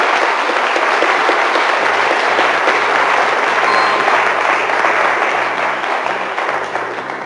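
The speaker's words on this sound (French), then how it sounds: "Ben, applaudissements pour Bastien" Steady, loud applause from a crowd at a French quiz or game show, filling the whole stretch without pause and fading slightly near the end.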